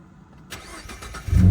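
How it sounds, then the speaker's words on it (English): A 2015 Ford Mustang with a 3.7-litre V6 cranks briefly, then catches with a low rumble building at the very end, heard from inside the car. "now I'm going to let you hear the start here"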